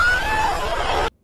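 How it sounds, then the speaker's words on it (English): A man screams in pain, replayed: a loud, high, strained cry lasting about a second with a wavering pitch, then cutting off abruptly into silence. "What kind of scream was that?"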